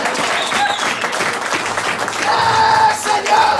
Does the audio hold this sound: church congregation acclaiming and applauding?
yes